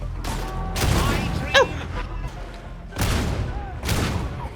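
Bolter gunfire in a Warhammer video game, loud bursts of heavy automatic shots in several clusters with a sharp metallic whine between them, up close.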